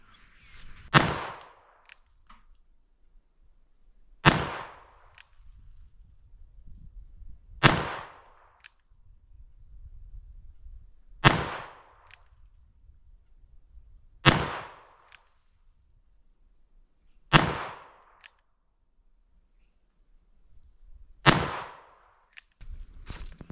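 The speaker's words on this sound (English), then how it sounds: "So I'm going to start off with some 38 special 158 grain semi-wad cutters, slow fire 7 yards, single action." Ruger GP100 seven-shot .357 Magnum revolver firing .38 Special 158-grain semi-wadcutter rounds single action at a range, seven sharp loud shots spaced about three seconds apart, each ringing out briefly before quiet.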